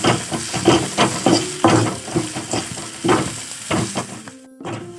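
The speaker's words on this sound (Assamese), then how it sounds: "নিমখ হালধি দি অকণমান লাৰি দিম" Bamboo shoots stir-frying in a pan with salt and turmeric, with steady sizzling and repeated scraping strokes of the stirring spoon close by, ending in a brief quieter moment with a faint clink.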